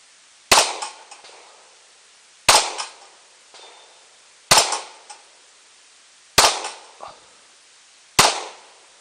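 Pistol fired five times at a slow, even pace, each shot a sharp loud crack followed by a decaying echo, with silence between shots.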